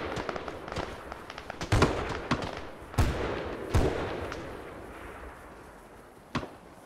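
Explosions and gunfire in the military video game Arma 3 burst out in repeated sharp cracks and booms over a constant rumbling background, with no talking.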